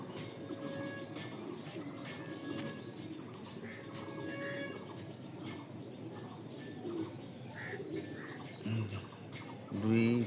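Kept pigeons coo softly in a loft, low repeated murmurs with scattered chirps and light rustling, while a person speaks now and then nearby.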